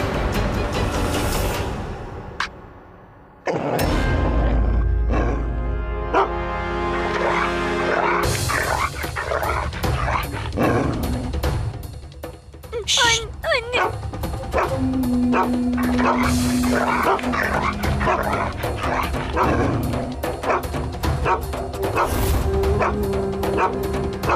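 Wild dogs bark and yip repeatedly amid a busy, loud mix of music and other sounds in an Indian TV drama, the barks short and sharp throughout.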